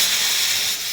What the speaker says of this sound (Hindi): मेरे कुकर को क्या हो गया पता नहीं यार, अजीब से सीटी दे रहा है